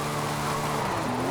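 A Porsche 911 is driven hard, its engine a loud, continuous close-up roar with a faint rising whine near the end of the short burst, and no talking over it.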